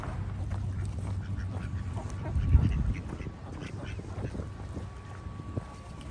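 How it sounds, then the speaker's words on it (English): Ducks quacking outdoors near water, a short cluster of quacks midway through a steady breezy rumble of wind on the microphone, with occasional faint calls after. "So many ducks."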